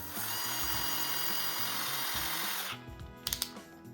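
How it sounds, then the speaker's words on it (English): Electric screwdriver driving screws into a giant mammoth puppet: a steady whirring motor run for about three seconds, then a stop followed by a few sharp clicks and taps close by. "it's okay to use an electric screwdriver as long as you don't over tighten them"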